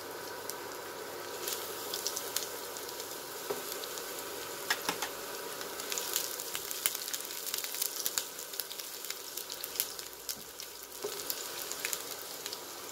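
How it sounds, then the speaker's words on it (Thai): Garlic fries in hot vegetable oil in a pan, a steady crackling sizzle with scattered pops and light stirring throughout. "ใส่น้ำมันลงไปเลยใส่กระเทียมลงไปเลยนะคะน้ำมันร้อนแล้ว"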